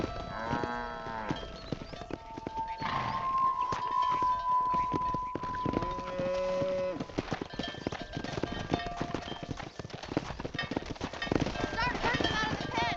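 Horses' hooves clip-clop steadily while riding and herding cattle in the video game Red Dead Redemption, with cattle lowing over the hoofbeats in a busy, continuous game soundscape.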